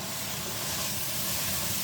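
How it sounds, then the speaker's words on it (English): A seasoned steak sizzles in a pan, a continuous close, even hiss of frying fat and juices with no pauses. "Listen to that sizzle."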